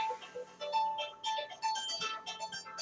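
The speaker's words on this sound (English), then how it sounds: "That's my phone, but I'm not going to answer it since I'm doing the show." A phone ringtone plays at home, a repeating electronic melody with steady tonal beeps, fairly quiet and continuous throughout with no talking over it.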